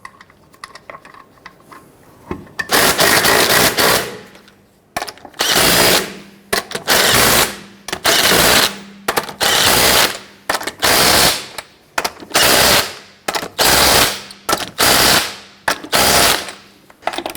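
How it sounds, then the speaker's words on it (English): Impact wrench tightening the lug nuts on a 1999-2004 Jeep Grand Cherokee wheel, heard as about ten loud, close rattling bursts in a steady rhythm with short pauses between them, and no talking. "Torque the lug nuts to 100 foot-pounds."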